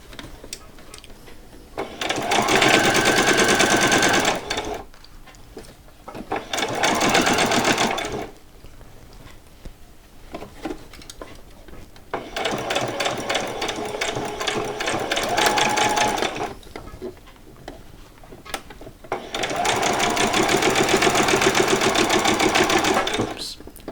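A sewing machine stitches a pyjama seam in four loud bursts of rapid mechanical whirring, each a few seconds long, separated by quieter pauses, with a person talking between runs.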